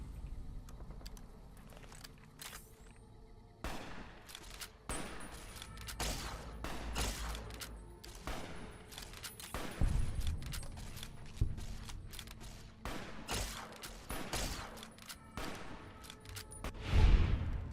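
Gunfire in Fallout New Vegas: a long run of sharp shots in uneven bursts, some single cracks and some quick follow-ups, loud and close with rumbling impacts and no talk.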